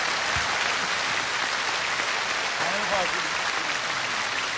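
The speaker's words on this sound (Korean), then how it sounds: "여러분 박수 부탁드립니다." A studio audience applauds steadily for a presenter at a 30th-anniversary celebration of the Korean TV singing contest National Singing Contest; dense, sustained clapping fills the clip with a few faint voices underneath.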